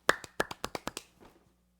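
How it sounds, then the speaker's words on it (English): A drummer's clap pattern played with bare hands: about seven sharp, close claps in an uneven rhythm, with a softer pair at the end and no talking. "you want to learn the drummer's clap?"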